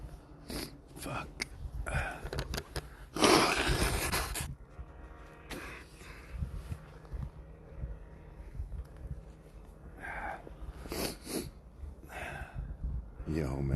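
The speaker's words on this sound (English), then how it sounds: "Fucking coughing and sniffing." A man coughs and sniffs close to the microphone, with a harsh burst of coughing in the middle and scattered snorts, sniffs and breaths around it.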